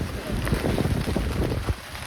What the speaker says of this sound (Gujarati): વરસાદ તો હજી ચાલુ જ છે